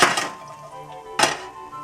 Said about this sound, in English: Then you want to take and put the pan over the heat.